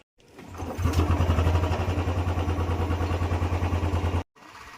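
A motorcycle engine starts and settles into a steady, close, pulsing idle and run, cutting off briefly near the end before resuming, as the bike is readied for a ride toward Henry Island near Bakkhali.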